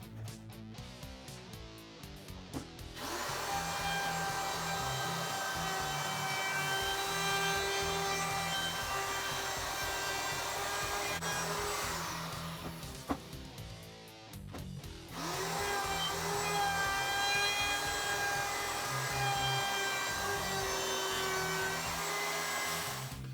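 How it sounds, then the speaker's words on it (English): Router fitted with a roundover bit shaping the edges of a homemade electric guitar body, a loud sustained high whine with a brief dip and restart midway, cutting hiss over the tone, close and continuous. "The reason I want to run the roundover bit now is so it'll fit through the planer a little bit better."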